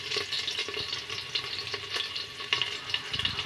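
Cumin seeds frying in hot oil for dal, a steady bright sizzle with soft stirring scrapes throughout, close and fairly loud, with no voices.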